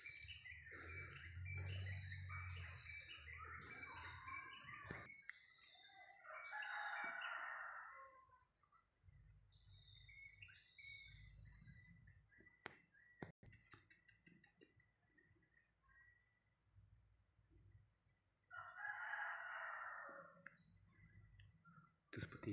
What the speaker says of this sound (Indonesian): Seperti suara ayam hutan jantan.